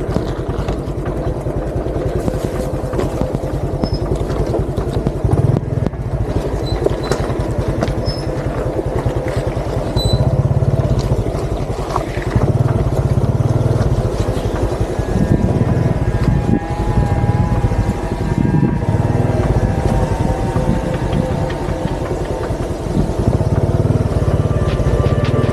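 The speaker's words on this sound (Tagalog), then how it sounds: "naitatawid ko rin tong XRM" A Honda XRM motorcycle crosses a river in Aurora Province, Philippines. Its engine rumbles steadily and fairly loudly the whole time, with the pitch rising and falling slightly as the throttle changes.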